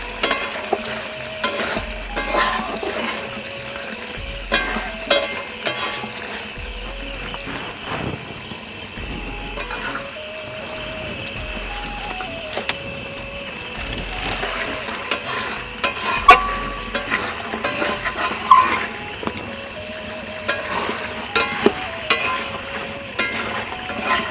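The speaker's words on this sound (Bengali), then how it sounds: "এখন মাংসটা আমি একটু কষে নিচ্ছি" Chicken pieces are stir-fried in white cooking oil in a pan, a steady sizzle broken by repeated scraping and stirring strokes at an uneven rhythm, with some louder clanks and no talking.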